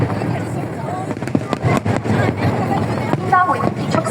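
A National Day fireworks display over Hong Kong, heard as repeated booming bursts and crackles from the crowd's position, while an amplified public announcement speaks over the top throughout.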